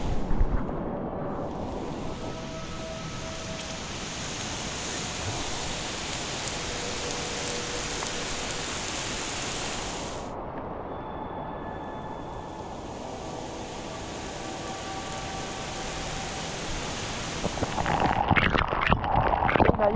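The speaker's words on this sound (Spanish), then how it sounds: "Una lluvia constante, no para aquí de llover." Constant heavy rain falls on a forest hiking trail on Réunion island in Salazie, a steady dense hiss throughout with a brief lull and rougher rustling near the end, and no talk.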